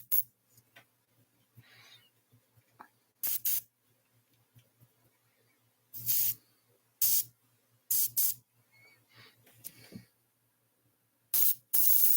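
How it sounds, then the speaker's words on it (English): Several short bursts of white spray paint hissing onto white paper, loud and close, separated by quiet pauses with faint handling sounds and a low hum in between. "So I'm spraying white on white paper"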